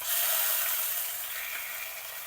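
Silyari greens hit a pan of fried onions with a loud, bright sizzle that swells at once and then slowly settles into a steady hiss, close by and without talk.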